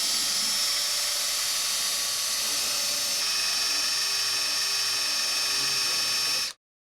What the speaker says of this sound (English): The drill bit is used to drill to the desired depth.